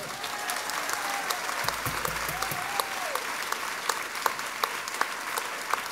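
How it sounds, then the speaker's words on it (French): An audience at a music festival breaks into sustained applause, with steady, fairly distant clapping and sharper individual claps standing out, while a voice speaks briefly over it. "On les applaudit."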